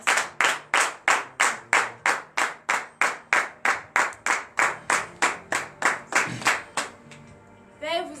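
A church congregation at morning prayer claps in unison, about twenty sharp, evenly spaced group claps in a steady beat. They stop near the end, leaving faint voices and a brief high chirping.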